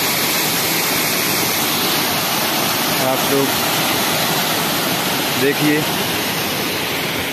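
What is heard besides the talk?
Pandav Falls waterfall, Panna Tiger Reserve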